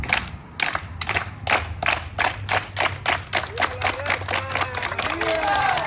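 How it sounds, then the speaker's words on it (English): A rally crowd in East Los Angeles performs the Chicano hand clap: slow, sharp, unison claps that steadily speed up into a rapid, continuous patter, over a low background hum. "Chicano hand clap"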